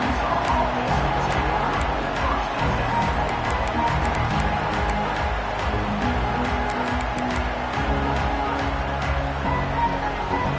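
A football stadium crowd at Texas A&M roars steadily throughout, with a dense, continuous wash of cheering and noise and no distinct breaks.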